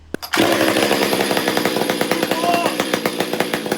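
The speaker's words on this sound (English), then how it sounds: "my relatively new STIHL 500i. This is a very divisive saw online" A STIHL 500i chainsaw starts with a quick pull and fires up, then runs steadily at a loud, rough idle with a rapid pulsing beat, close to the listener and without speech.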